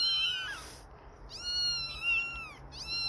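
Kittens meowing in a quick string of high, thin, wavering cries, some overlapping, close and fairly loud against a quiet background.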